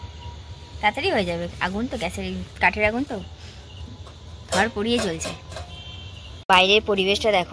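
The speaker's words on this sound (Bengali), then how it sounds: "চারিদিক ঝিঝি পোকা ডাকছে" Crickets chirp steadily outdoors on a cold winter night, a faint continuous insect drone beneath someone talking close by for most of the stretch.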